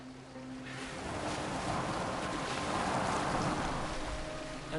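A Viking boat on open water in Assassin's Creed Valhalla, with steady rushing water and splashing wash around the hull, a continuous broad hiss that swells slightly mid-way.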